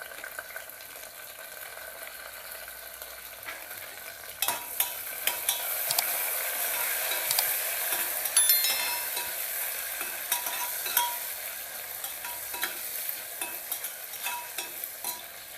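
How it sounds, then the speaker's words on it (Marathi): Browned onions and tomatoes frying in a pan while being stirred, a steady close sizzle with repeated scraping stirs and utensil clinks throughout, busier after the first few seconds. "कांदा चांगला ब्राऊन झालेला आहे गॅस आता बारीक करायचं आहे जरा आणि आपण टोमॅटो होते ते पण घालूया त्याच्यामध्ये"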